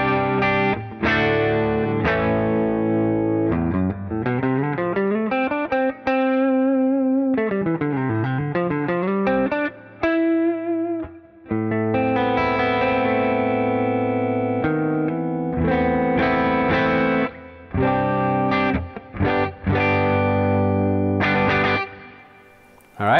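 Hartwood Fifty6 electric guitar with a Bigsby vibrato, played on the neck pickup through effects, with sustained chords, bent and wavering notes, and quick strummed bursts, loud and close with no talking.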